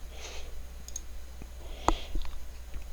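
A single sharp mouse click sounds near the middle, against faint background hiss, with no talking.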